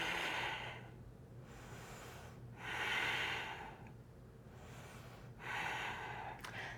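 Slow, deep breathing during a yoga session, with three long airy inhales and exhales about three seconds apart over a steady low hum. No one talks.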